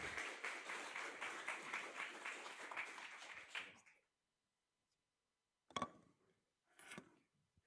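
Audience applause at a university game jam, a dense burst of clapping lasting several seconds before cutting off, followed by a couple of brief sharp knocks or thumps in the quiet that follows.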